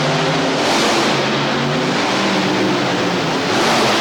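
A Ford race car accelerating hard off the line at the start of a drag race at a monster-car event, a loud sustained engine roar filling the whole stretch with no talk over it.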